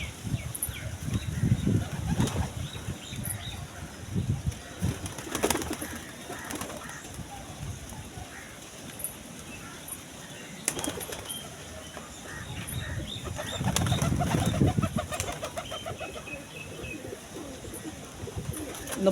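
Pigeons at a loft give low, soft cooing murmurs in repeated swells, with occasional bursts of wing flapping, all fairly close and moderately quiet.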